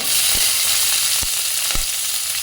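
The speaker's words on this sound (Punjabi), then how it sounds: "ਇਹ ਚੰਗੀ ਤਰ੍ਹਾਂ ਆਪਾਂ ਪਿਆਜ਼ ਭੁੰਨ ਲੈਣੇ ਆ" Onions sizzle in a pan with mustard seeds and curry leaves over low gas, giving a steady bright hiss with a few soft stirring knocks, close and alone.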